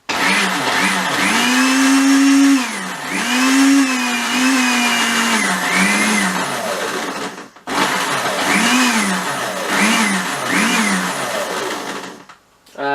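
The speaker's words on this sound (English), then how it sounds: "So put the lid on and blend it up." A kitchen blender whirs loudly through a thick fake blood mixture, its motor pitch wavering up and down as the load shifts, stopping briefly midway and starting again, with no talking.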